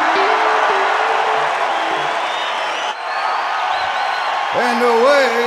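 A concert crowd at Hyde Park, London, roaring and cheering as one dense, sustained wall of voices, with scattered whoops and a few rising shouts standing out near the end.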